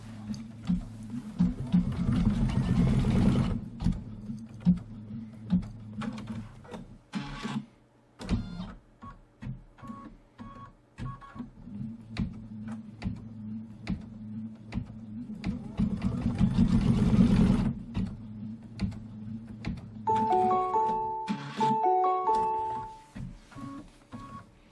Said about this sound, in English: Let's go ahead and stitch out the placement lines